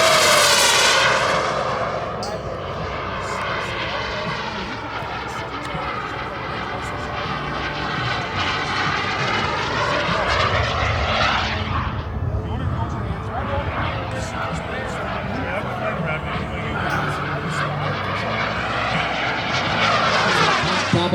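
A large radio-controlled model airplane of about 50 pounds, an Elite Aerosports Picaro, flies past with a loud, sustained engine roar that rises and falls in pitch, nearly continuous over twenty seconds.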